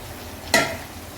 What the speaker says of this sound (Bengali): বন্ধুরা ফুটে গেছে ঝোলটা, এবার আমি মাছটা দিয়ে দেবো।